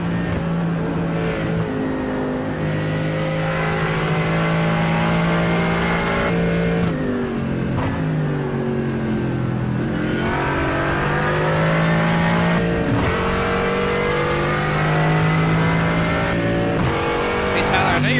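Guttural Mercedes race car engine in the iRacing sim, loud and close, revving up and down through repeated gear changes with sharp shift cuts and brief tire squeal, no talking over it.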